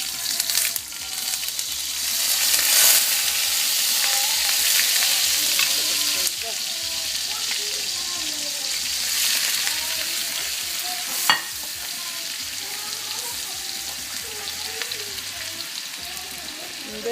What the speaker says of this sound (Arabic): درت شويه زيت في المقله